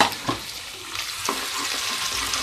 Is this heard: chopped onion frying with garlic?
yes